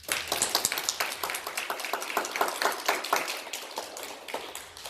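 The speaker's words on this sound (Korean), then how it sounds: "우리 크게 박수해 주시겠습니다" A church congregation claps together during a Sunday worship service, a dense, even burst of many hands applauding steadily for several seconds and then tapering slightly, with no talking over it.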